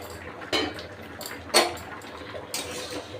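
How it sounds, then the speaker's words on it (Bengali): Lifting and handling a metal lid on a cooking pot of simmering mixed vegetables in a home kitchen produces three sharp metallic clanks about a second apart over a quiet background. "এবার আমি ঢাকনাটা খুলে নেব।"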